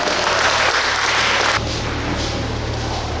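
Audience applause at a World Tuna Day 2021 ceremony rings out steady and loud for an official taking the stage, a continuous wash of clapping with no speech.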